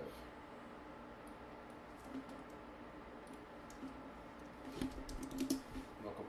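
Someone types on a computer keyboard while coding a web page, making quiet, irregular key clicks that bunch into a slightly louder burst of taps toward the end.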